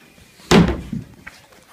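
Wooden door of a TARDIS replica build swings shut with one loud, close slam, then a softer knock and a faint tap as it settles.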